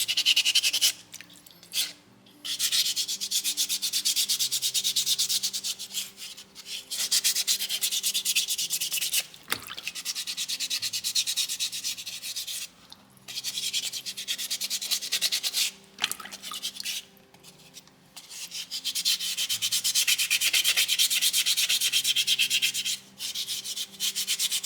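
Sandpaper rubbing on a soapstone owl carving, steady back-and-forth rasping strokes in long bursts with brief pauses, close and fairly quiet, with a faint tonal hum underneath and no speech.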